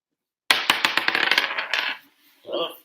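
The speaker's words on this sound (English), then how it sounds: "Okay, roll that dice." Dice clatter onto a table in a classroom-style game, a burst of rapid hard clicks and rattles settling over about a second and a half, followed by a brief soft shuffle.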